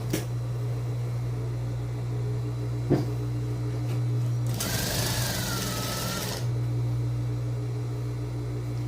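Sewing machine stitching a folded fabric lining for a vest, one loud steady whirring burst of about two seconds over a constant low electrical hum, with a small click before it.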